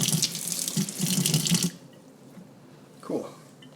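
A water tap runs into a sink for under two seconds, rinsing a fountain pen nib and section, a close splashing hiss that cuts off and leaves quiet, followed by a brief voice.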